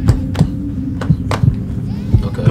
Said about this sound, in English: Oh, the heart beating.